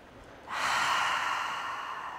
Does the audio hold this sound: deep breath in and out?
yes